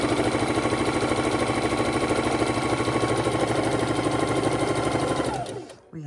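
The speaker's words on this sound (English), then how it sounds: "we're going to go ahead and sew our 1/4 inch" A sewing machine stitches a quarter-inch seam through pinned quilt pieces, its needle running in a fast, steady mechanical chatter at close range before slowing and stopping near the end.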